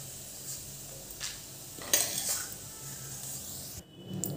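Ingredients for bhadang roasting in oil in a pan while being stirred, with soft scraping and rubbing of a utensil against the pan, a few light clinks and a faint sizzle, close and without talk.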